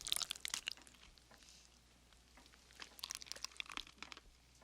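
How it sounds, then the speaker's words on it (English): Crunchy sardine chewing from a horror film, faint wet crunching and crinkling in irregular bursts with a quiet gap between them. "never, ever, ever eat a sardine if it sounds like that when you chew"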